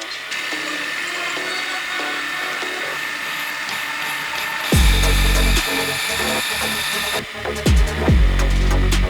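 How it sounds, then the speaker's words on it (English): A power drill bores holes in big brake parts for a VW Golf 2 G60, a steady whirring whine with heavy low bursts partway through as the bit bites, close and loud, with no talk. "getting some holes drilled, get this all finished"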